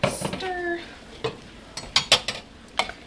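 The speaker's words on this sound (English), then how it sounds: "Let's give it a nice stir." A spoon scrapes and clinks against a pot of pot roast soup during stirring, giving several sharp metallic knocks spaced irregularly over a soft, close background.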